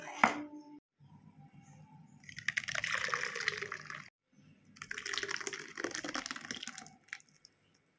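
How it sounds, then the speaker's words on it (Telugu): Blended coconut and water are poured through a strainer to extract coconut milk, heard as two close bursts of splashing, trickling liquid separated by brief pauses, with a light clatter at the start. "దీన్ని ఇప్పుడు స్ట్రైనర్లో పోసి"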